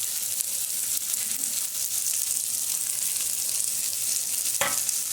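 Onions frying in hot oil in a pan for aloo posto, Indian home cooking, giving a steady, dense sizzle throughout with a brief sharper burst near the end.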